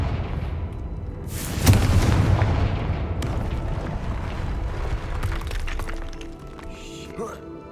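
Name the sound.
Confringo spell explosion in a video game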